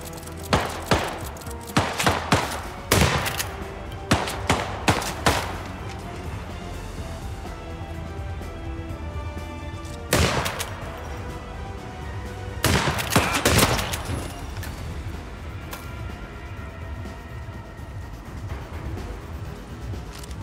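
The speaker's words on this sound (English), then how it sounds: "that one dude's just shooting" Bursts of video game gunfire in Hitman World of Assassination, with sharp, clustered shots early on, then a long, quieter stretch broken by two further volleys partway through.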